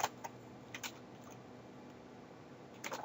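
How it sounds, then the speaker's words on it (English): Keys are typed on a computer keyboard in a quiet room, a few faint scattered clicks over a steady low hiss, with a small burst near the end. "I'm gonna start typing"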